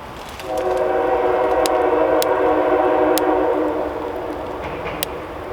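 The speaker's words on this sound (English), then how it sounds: "There's the train." A train rumbles past at moderate distance, a steady broad roar with a tonal horn-like hum swelling in and slowly fading, plus a few sharp clicks.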